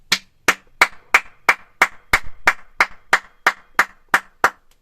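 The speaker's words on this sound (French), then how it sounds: "on applaudit cette prestation magnifique, tous ensemble" Applause for a performance comes as about fourteen sharp handclaps at a steady, even tempo, close and loud, like a rhythmic clap-along rather than scattered applause.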